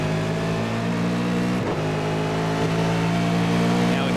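Supercars race car engine in a racing video game held at a loud, steady, high drone as it drives through a corner at Monza, with a brief dip midway and no talking.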